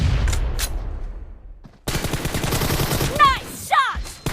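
Bursts of rapid automatic gunfire crack out in a team deathmatch shooter game, with an echoing tail between volleys and a chirpy ricochet-like whine twice near the end.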